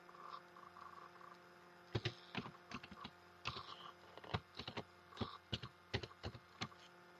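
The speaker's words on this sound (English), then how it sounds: "we will type in a new password." Someone types a new password on a computer keyboard, producing a quiet run of separate key clicks in an uneven rhythm over a low, steady hum.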